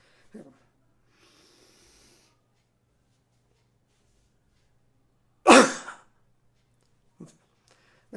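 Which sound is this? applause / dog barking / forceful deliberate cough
forceful deliberate cough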